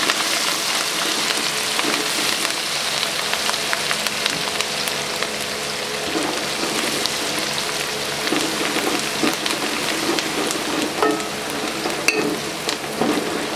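Green chillies frying in hot oil in a pan for dhaba-style chana dal, a dense constant sizzle and crackle, close and steady with faint stirring, no voices.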